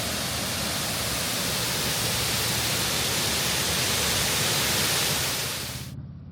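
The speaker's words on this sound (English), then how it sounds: "We stopped at this little man-made waterfall thing." A small man-made waterfall pours in a steady, loud broadband rush that stays constant and then drops away abruptly near the end, with no voices.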